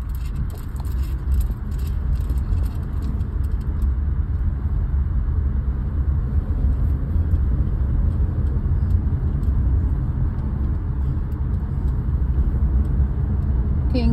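A car drives through downtown Christiansted on St. Croix, its low engine rumble and road noise steady and moderate throughout, with no talk and some faint higher background sounds early on.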